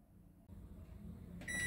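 Microwave oven running at 800 watts cooking eggs and potatoes, a steady low hum that starts up after a brief quiet moment and carries on with a bright whine near the end.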